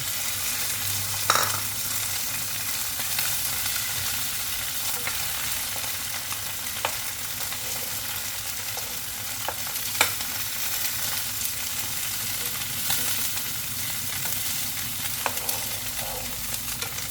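Two eggs frying in a wok with tomato while making shrimp fried rice with Chinese kale: a steady, bright sizzle runs the whole time, dotted with occasional clicks and scrapes of stirring.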